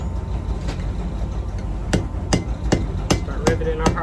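Hot steel rivets hammered on a pair of blacksmith tongs, a series of sharp metallic blows landing roughly every half second over a constant rumbling background.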